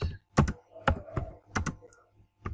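Typing on a computer keyboard, a few close clusters of quick clacking keystrokes separated by short pauses.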